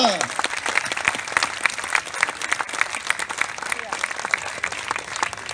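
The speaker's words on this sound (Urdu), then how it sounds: "زوردار تالیوں سے استقبال کیجئے بھارگوی ٹھاکر کا" Sustained applause from a crowd welcoming a performer at an outdoor Urdu storytelling event in Central Park, New Delhi, dense steady clapping filling the whole stretch, loud and close with no pauses.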